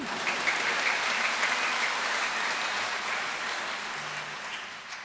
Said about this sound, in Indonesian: Maka tepuk tangan sekali lagi ya.